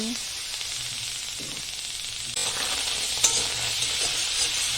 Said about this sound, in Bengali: ভাজবো, কিছুক্ষণ ধরে ভাজবো যাতে জলটা শুকিয়ে যায়।